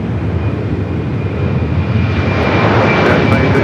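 An airplane rolls for takeoff on runway 25 right at Los Angeles International Airport, its engines giving a steady broadband roar that swells slightly louder over a few seconds, with no talking.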